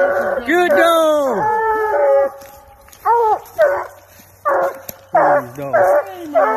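Hunting dogs bay and bark at raccoons treed at night, loud drawn-out bawls and yips with whimpers, in bursts separated by short pauses.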